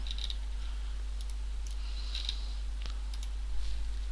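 Computer keyboard shortcut presses while marking seams in 3D modelling software, a few scattered soft clicks and taps close by over a steady low electrical hum, no talking.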